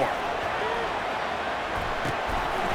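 Stadium crowd noise from the College Football 25 video game during a Fresno State versus UCLA third-down play, a steady loud roar of the crowd with a few thumps near the end.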